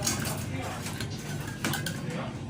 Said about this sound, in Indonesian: Lalu aduk lagi.